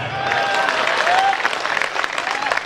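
A crowd claps in a loud, dense burst of applause at a Hindi poetry recital in Waidhan, Singrauli, Madhya Pradesh, fading slightly toward the end with a few scattered claps.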